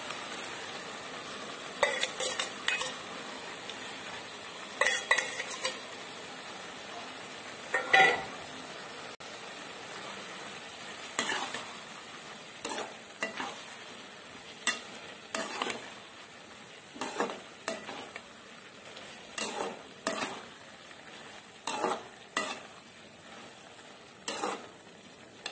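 Chow chow and dal cooking together in a pan, with repeated stirring scrapes and light sizzling at a steady rhythm, close and without talk.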